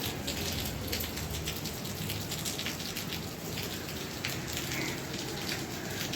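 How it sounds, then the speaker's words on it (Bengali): Heavy rain pours in a dense, continuous patter with scattered louder drips. It stays steady and close for the whole stretch, with no clear talk over it. "এক ব্যাগেই বৃষ্টিটা আসছে, আবার এখন কমে গেল।"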